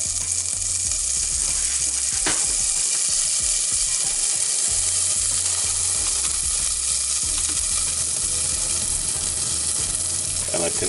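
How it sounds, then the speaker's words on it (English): Pork fat cut from the skin sizzles steadily as it melts in a warming pot, a continuous close crackling hiss with faint stirring scrapes and no talking. "And I can hear it start to melt"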